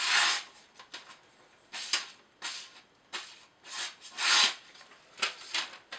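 A 600 grit sharpening stone works a knife edge on an Esee 3, giving repeated dry rasping strokes in a loose rhythm of about nine passes, close and fairly quiet, with no talk.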